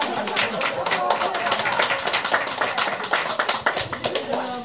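Applause at a cooking contest, a room of people clapping steadily and fairly close, with a few voices mixed in under the claps.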